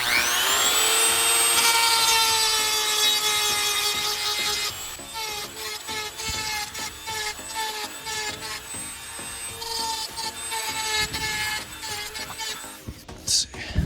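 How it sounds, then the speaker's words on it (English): A Dremel rotary tool sands the plastic bumper of an Element Enduro Knightrunner RC crawler, giving a loud, high, steady whine that wavers in pitch as the tool bites and eases off, with scraping grit underneath. "So I'm gonna get back to the Dremel here."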